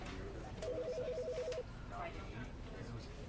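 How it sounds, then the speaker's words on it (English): A phone rings in a video game with a quick trilling, warbling ring tone heard once, faint and short, beneath background game sound and distant voices talking. "I'm hearing like phone ringing, people talking in the background."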